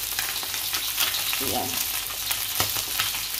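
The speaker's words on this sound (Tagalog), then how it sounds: "Nagpiprito tayo ng isda. Nagpiprito tayo ng galunggong." Galunggong fish frying in a pan with a steady hiss of hot oil, a brief louder spatter midway, and a single short spoken word over the sizzle.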